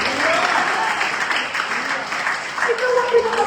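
Church congregation applauding in a broad steady wash of clapping, with voices calling out and shouting through it, fairly loud and continuous for a few seconds.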